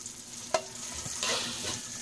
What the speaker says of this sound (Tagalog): Magsangag ako ng bahaw